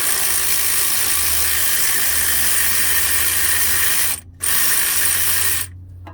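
A hand ratchet clicks rapidly and continuously while a starter is replaced on a 2015 Dodge Ram 2500 5.7L, loud and close with a brief pause near the end.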